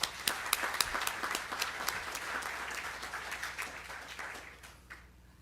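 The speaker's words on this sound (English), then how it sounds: "Let's give him another round of applause." An audience applauds at a groundbreaking ceremony for a new data center in Illinois, with dense, crisp clapping from many hands, close and lively, that gradually tapers and fades out over several seconds with no talk.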